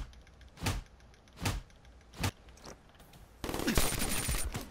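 Gunshots in a video game 1v1 match: three separate punchy shots spaced under a second apart, then a louder burst of rapid fire, fairly faint overall.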